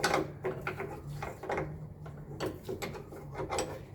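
A 14 millimeter wrench turning a fitting on a 1985 Mercedes 300TD wagon's self-leveling system: soft, close metallic clicks and ticks in uneven bursts, quiet with faint background hum.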